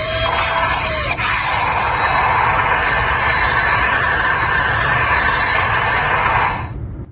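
A CSM Delta Gear toy's Jet Sliger jet effect gives a sustained, loud roaring whoosh like a jet engine, close and steady for several seconds before cutting off abruptly.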